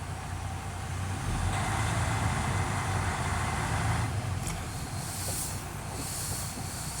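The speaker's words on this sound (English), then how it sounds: "I'm going to pull forward at 5 miles an hour" A Class A truck heard from inside the cab as it rolls forward slowly with a steady low engine rumble, then brakes to a stop with a short hiss of air near the end. No one speaks.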